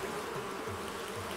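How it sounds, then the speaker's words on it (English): A bee buzzes in the video game Animal Crossing: New Horizons, a steady droning hum that holds at an even level for the whole moment, alone with no talk over it. "it's not Animal Crossing until you get stung by a bee."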